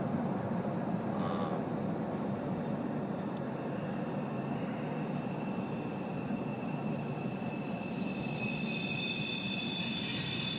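A CSX or NS freight train rolls past at a decent speed near Muncie Yard, with a continuous loud rumble of wagons and high, sustained metallic wheel squeals building toward the end.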